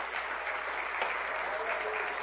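Church congregation applauding together at a Sunday evening service, a dense steady wash of clapping filling the space from start to finish.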